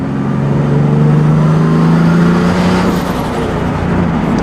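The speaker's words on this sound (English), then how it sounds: "You literally just hear the turbo spool." Loud, sustained engine revving with a rising whistle of turbo spool layered over the roar, building steadily throughout.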